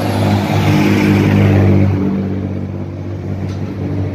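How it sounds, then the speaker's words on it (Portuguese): A truck passes along a busy city avenue, its deep engine rumble swelling to a peak and then fading as it moves away, loud and nearby. "peraí que tá passando um caminhão aqui"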